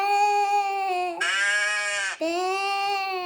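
A goat bleats in long, wavering cries, several in a row, loud and close, with no other sounds around them.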